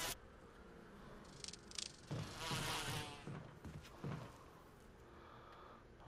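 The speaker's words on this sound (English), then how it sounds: "Hopefully I can get past the bees without getting stung." Bees buzz in the Resident Evil video game, a faint, steady drone broken by louder swells of hissing wingbeats in the middle, with no voices.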